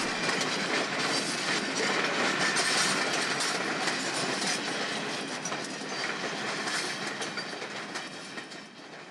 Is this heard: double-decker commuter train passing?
yes